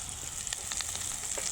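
Coriander and curry leaves frying in a kadhi tempering, a bright, hissing sizzle held steady through a short moment with faint crackles.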